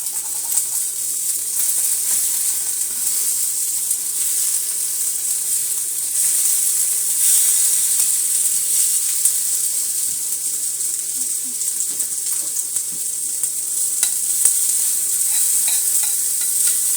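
An omelet fries in a pan after being flipped, giving a steady bright hiss of sizzling that holds constant and close for the whole stretch.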